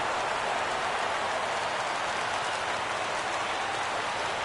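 Crowd in a baseball video game rising and cheering on a full 3-2 count, a steady, dense wash of noise with no breaks and no talk over it.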